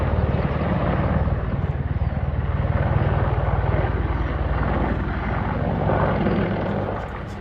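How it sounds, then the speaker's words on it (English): An Apache helicopter flies over a railway viaduct, its rotor chop pulsing loud and steady with a broad engine roar that swells slightly and then eases as it passes. "I think it was an Apache helicopter, flew right over the viaduct as well"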